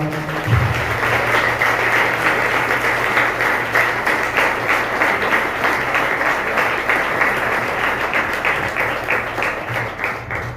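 An audience at a monthly pastors' welfare association meeting in Jalandhar bursts into loud, sustained applause, dense clapping that holds steady for about ten seconds without speech.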